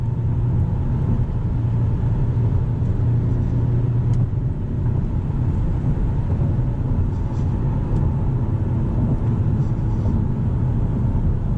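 A Hyundai Elantra N with a 6-speed manual gearbox fills its cabin with a loud, steady low engine and road drone throughout, heard from inside the car.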